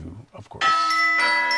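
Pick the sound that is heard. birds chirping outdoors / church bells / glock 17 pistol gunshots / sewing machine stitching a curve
church bells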